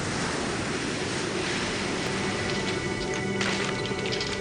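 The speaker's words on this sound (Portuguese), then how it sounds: "derrete literalmente ao ser fustigada pelas ondas" Ocean waves break against eroding permafrost cliffs on an Arctic island shore, a steady continuous roar of surf with some wind rush, loud and close throughout with slight swells near the end.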